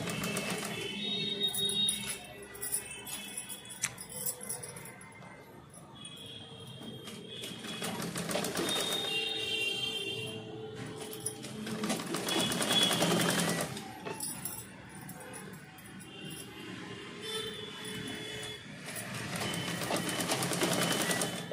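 A sewing machine runs a long double seam on a blouse sleeve in several close, loud bursts of rapid stitching separated by short pauses.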